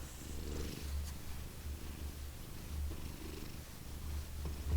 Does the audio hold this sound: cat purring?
yes